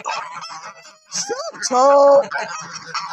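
Geese honk loudly and close on a farm in Bulgaria where goslings are expected, with a sustained, harmonic honking call in the middle of the clip, surrounded by quieter bird chatter and background voices.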